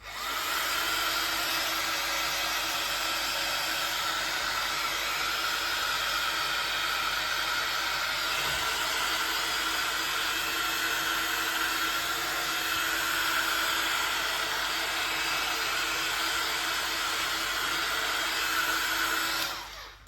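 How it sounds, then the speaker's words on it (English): A heat gun warms glue on an Air Max 1 sneaker during a midsole swap, giving a loud, steady blowing roar that runs unbroken for about twenty seconds before cutting off. "The heat gun. So, and then we'll heat this up"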